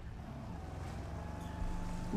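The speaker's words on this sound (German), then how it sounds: "Motorboot heizen" A motorboat in Watch Dogs 2 speeds across the water with a steady, faint engine drone and hull wash, holding an even hum throughout and swelling slightly toward the end.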